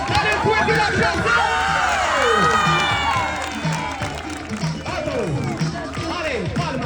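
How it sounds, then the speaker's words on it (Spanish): A street crowd at a performance in Barcelona cheers and shouts loudly, with clapping mixed into a lively, dense roar of voices, people speaking and calling out throughout. "¡Dale un fuerte aplauso!"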